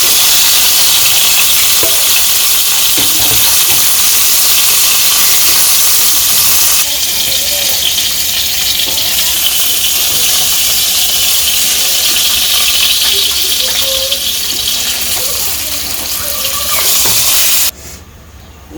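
Fish fries in a pan of fish oil with a dense, continuous sizzle and crackle. The frying carries on steadily close by, then drops away abruptly near the end.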